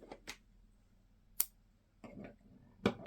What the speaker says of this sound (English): cut your yarn